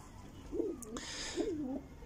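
Pigeons on a rooftop give two soft, close, rolling coos about a second apart, with a brief rustle or flutter between them over faint background noise.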